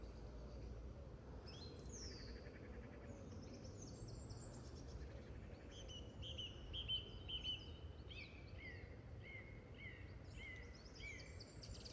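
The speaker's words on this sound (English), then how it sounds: "I'm not sure how much the bird song's going to show up on the audio" Birds sing at dawn around 5am on an outdoor walk, a continuous layer of faint chirps and whistled phrases over a low steady wind rumble, no talking.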